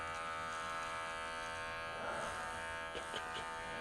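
An electric shaver buzzes steadily and close up, its tone roughening slightly midway as it moves across the skin trimming leg hair.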